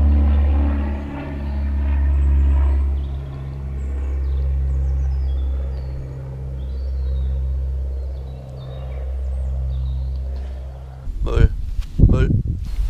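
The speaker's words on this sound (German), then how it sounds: "da kommt gerade ein Flugzeug, das hier irgendwie Rundflüge macht" A light propeller airplane on sightseeing flights drones overhead above a field, a low steady hum swelling and fading before close rustling handling noise at the end.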